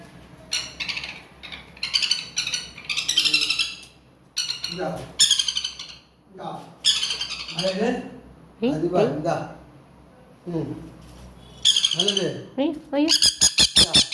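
A pet bird squawks and screeches loudly in repeated bursts while a person talks to it between the calls, ending in a rapid run of sharp chirps.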